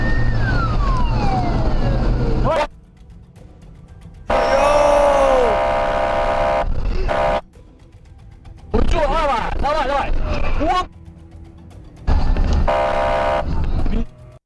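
A police car siren wails during a dashcam chase, in loud sweeping bursts broken by abrupt gaps, with voices talking over the footage.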